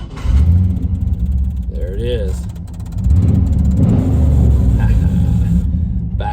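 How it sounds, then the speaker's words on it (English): A 1998 Chevrolet K-series pickup truck with a 5-speed manual transmission rumbles low and loud, revving up after a moment and settling into a steady idle, with someone talking briefly over it. "Let's fire this red-blooded truck up."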